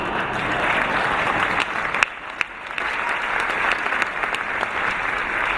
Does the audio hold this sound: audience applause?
yes